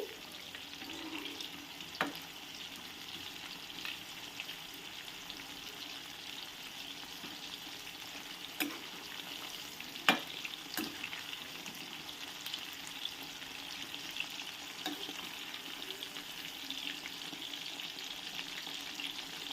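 Spice-coated masala chicken pieces frying in a pan, a steady soft sizzle throughout with occasional sharper pops and a few stirring scrapes, no talking.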